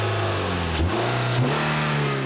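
A 2.4-litre four-cylinder car engine accelerates hard, its loud, close pitch climbing steadily and dropping briefly at two gear changes before rising again, with no talking.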